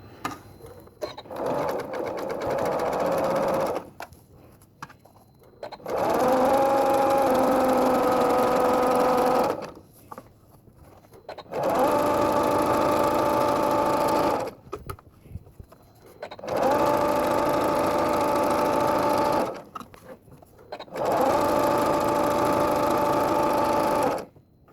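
A home sewing machine runs zigzag stitching on a t-shirt with a zipper for shoulder surgery, in five steady bursts of several seconds each, separated by short pauses. The motor whirs loud and close with a fast stitch rhythm.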